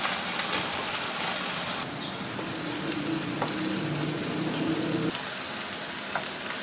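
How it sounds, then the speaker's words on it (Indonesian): Tempeh frying in oil in a home kitchen, a dense, steady crackling sizzle that fills the whole stretch at an even loudness, close up, with no talk over it. "Setelah ini kita goreng tempenya sampai nanti rada kecoklatan."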